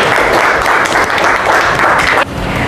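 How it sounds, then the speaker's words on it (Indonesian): Students in a classroom clap for classmates, a loud, close burst of massed applause that holds steady for about two seconds and then drops off abruptly into quieter room noise. "Beri tepuk tangan untuk mereka"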